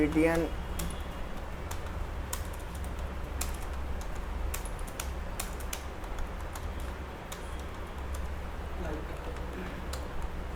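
Code is typed on a computer keyboard as faint, scattered keystroke clicks over a low steady hum, with a voice talking at times.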